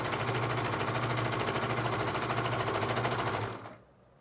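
Sewing machine running steadily as it stitches viscose fabric for a French-seam dress, a close, loud, even mechanical whir that continues for about three and a half seconds before stopping abruptly.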